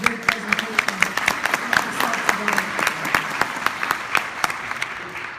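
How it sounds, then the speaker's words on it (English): Audience applause after a presentation: scattered, fairly sparse individual claps from a modest crowd, with voices murmuring beneath them. "I really want to give another round of applause to everybody"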